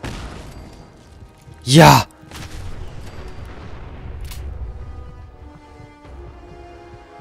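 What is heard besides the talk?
grenade explosion in Fallout 4 video game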